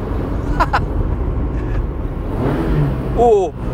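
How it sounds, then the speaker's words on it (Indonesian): An Esemka car engine revs toward its 6000 RPM redline, a steady, fairly loud drone with a brief rising whine near the end, partly masked by a voice speaking. "Sampai red line di 6000 RPM juga enteng aja nih mesin."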